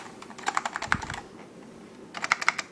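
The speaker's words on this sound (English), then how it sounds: "I got the clicky keyboard." Typing on the clicky original keyboard of a Macintosh SE computer, with two bursts of sharp keystrokes separated by a short pause, close and clear, with no talking.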